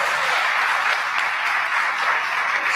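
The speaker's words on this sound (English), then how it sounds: "Let's give you a round of applause." A brief, steady burst of audience applause at a business workshop in Gugulethu. The even, hissy clapping carries on alone without talk.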